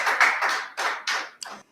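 Short burst of audience applause at a Nigerian school colloquy, a few scattered clusters of hand claps rising and fading over under two seconds, close and dry, no talk.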